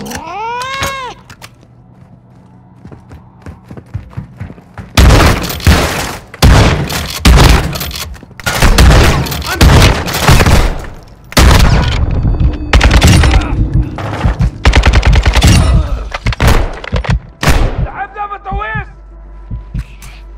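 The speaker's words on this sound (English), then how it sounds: "You are taking effective fire." Gunfire in Call of Duty Warzone 2 DMZ, set in Al Mazrah and Koschei Complex: loud, dense bursts of rapid automatic shots and impacts fill the middle stretch, broken by short pauses, with game voice alerts at the start and end.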